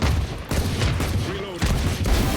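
Rapid bursts of gunfire in a Valorant-style tactical shooter match, loud and close, with talk running over the shots.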